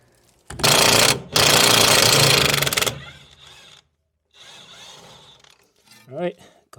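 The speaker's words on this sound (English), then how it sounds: "God bless the impact wrench" Loud pneumatic impact wrench bursts rattling away at seized brake parts on a Volkswagen, two long hammering runs, followed by quieter clanking and handling of tools and metal parts.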